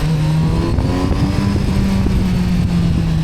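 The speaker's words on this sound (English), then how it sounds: "Really like this engine." A Kawasaki Z900RS SE motorcycle engine runs close by with a loud, steady droning hum and slight shifts in pitch, heard alone with no voices.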